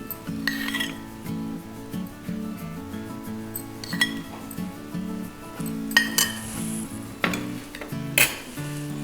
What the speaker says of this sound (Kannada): ಸ್ಟವ್ ಮೇಲೆ ಒಂದು ಪಾನ್ ಇಟ್ಟು ಅದನ್ನು ಹಚ್ಕೊಳ್ಳೋಣ ಇದಕ್ಕೆ ಒಂದು ಎರಡು ಚಮಚದಷ್ಟು ತುಪ್ಪವನ್ನು ಹಾಕ್ಕೊಳ್ತಿದ್ದೀನಿ